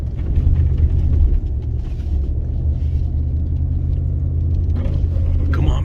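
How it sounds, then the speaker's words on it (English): Ford Raptor pickup climbing rough off-road ground in four-high with traction control off, a loud, continuous low engine rumble close by; no distinct ABS clicking stands out. "you can hear the ABS kicking in and clicking"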